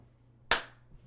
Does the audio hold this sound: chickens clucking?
no